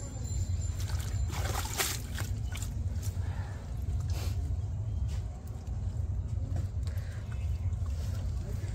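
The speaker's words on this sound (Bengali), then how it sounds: "ভালো করে পরিষ্কার করে ধুয়ে নেওয়া হবে যাতে মাটি না থাকে" Water runs and splashes over freshly picked homegrown spinach being rinsed clean of soil, a steady trickling wash with intermittent sharper splashes and handling sounds throughout.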